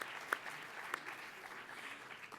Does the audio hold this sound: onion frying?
no